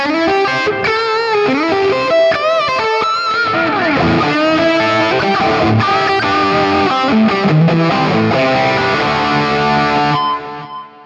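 An electric guitar runs through a Rat distortion model on an Axe-FX III, playing gritty, saturated riffs and held chords at high volume with no voices, then trailing off briefly at the close.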